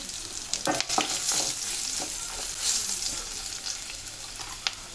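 Cumin, garlic, asafoetida and spices sizzle in hot oil for restaurant-style palak paneer, a loud, close crackling fry with scattered spatula clicks and stirring scrapes.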